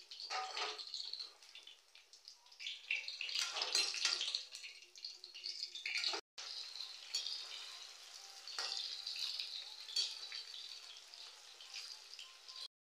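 Paneer pieces fry in a pan with a steady, close sizzle that swells and eases, broken by one brief dropout midway; no voices.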